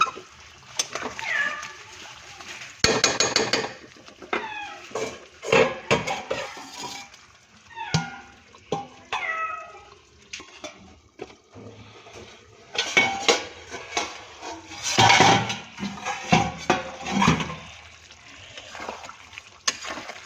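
Metal pot and lid clatter with cutlery-like clinks while chicken and potatoes cook, in several separate bursts of knocking and scraping among quieter kitchen sounds; a cat meows faintly now and then.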